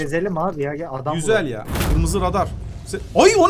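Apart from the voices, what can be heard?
None of the usual background noises is heard.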